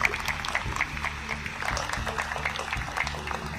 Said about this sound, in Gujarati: આપણે સૌ તાળીઓ પાડતા રહીશું